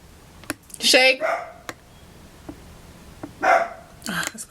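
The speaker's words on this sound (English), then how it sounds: "That's my dog." A pet dog gives a couple of short barks or yips close by in a home, heard between moments of a person talking.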